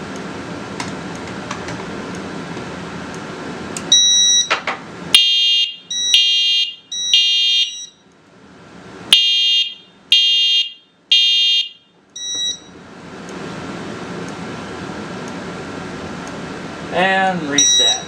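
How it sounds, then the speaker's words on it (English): Smoke detector on a fire alarm system under test, sounding in a series of loud, sharp electronic beeps with gaps between them, set against a steady background hum. "Let's do the smoke detector."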